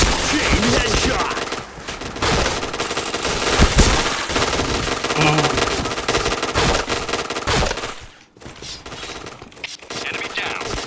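Rapid automatic gunfire from a video game shooter, dense bursts filling the whole stretch loudly with only a brief pause, with occasional speech mixed in.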